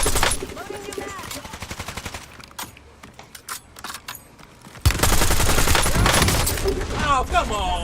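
Automatic gunfire in a squad shooter video game, rapid close bursts at the start and a loud sustained volley later, with game sounds and a player's voice between.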